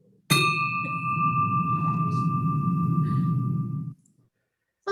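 A single bell struck once, a sharp metallic onset followed by a long sustained ring with clear tones that holds for several seconds and then cuts off abruptly, loud and close.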